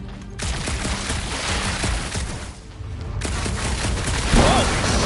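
Quill's blaster gunfire in Marvel's Guardians of the Galaxy, rapid bursts of shots with a brief lull in the middle, loud and close.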